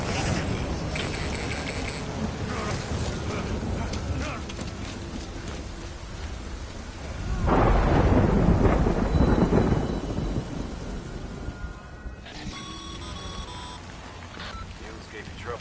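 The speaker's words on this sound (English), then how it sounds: "Good thing it was raining." A thunderstorm with rain in the Death Stranding video game: steady rainfall throughout, swelling into a loud rolling thunder rumble midway that fades, with someone talking over parts of it.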